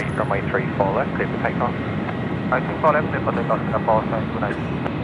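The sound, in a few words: Boeing 747 jet rolling for takeoff at Sydney Airport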